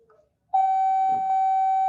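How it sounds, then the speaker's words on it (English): A school class bell sounds as one abrupt, steady electronic tone. It starts suddenly after a near-silent moment and holds loud and unbroken. "there's the class bell"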